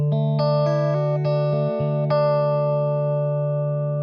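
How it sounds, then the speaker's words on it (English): A clean electric guitar plays a few sustained notes and chords, each ringing out steadily with no other sounds. "So I will be playing one thing on this guitar."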